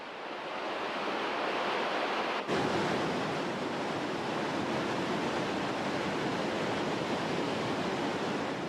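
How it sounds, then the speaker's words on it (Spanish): Foaming torrent bursting from a cliff at the source of the river Lison, a loud, steady roar of rushing whitewater filling the whole clip with no voices. "Este torrente de espuma marca el espectacular nacimiento de un arroyo"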